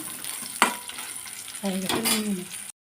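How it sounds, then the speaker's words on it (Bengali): Pointed gourd (potol) fries in hot oil with a soft, continuous sizzle, marked by one sharp clack early on and a brief louder stretch near the end before it cuts off. "এরকম লাল লাল করে পটল আমি ভেজে নিলাম"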